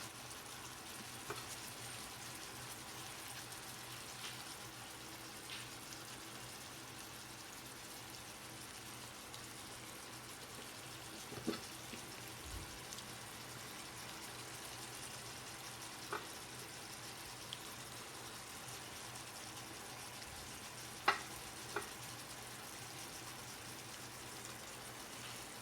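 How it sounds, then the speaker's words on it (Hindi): Chapli (Peshawari) kebabs frying in a pan on their second side, with a soft, steady sizzle broken by a few faint pops and clicks. "दूसरी तरफ से फ्राई कर रहे हैं।"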